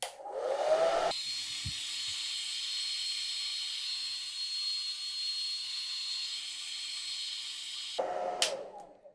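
Hair dryer on high heat blowing through a beard, switched on after a second and running as a steady, loud whooshing hiss for about seven seconds before cutting off.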